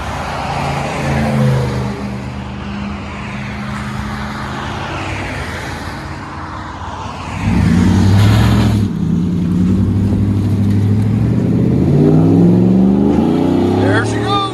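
A 2007 Chevy Avalanche with a 5.3-liter V8 and factory converters pulls away in traffic, its exhaust swelling into a louder, deep rev halfway through amid background road noise, with people talking over it.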